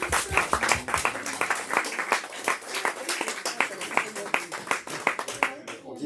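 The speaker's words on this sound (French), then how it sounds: "On peut l'applaudir aussi parce que la cuisine c'est lui." An audience at a café associatif event applauds Félix, the café's cook, with a dense burst of close hand clapping that fades slightly near the end, and voices are heard over it.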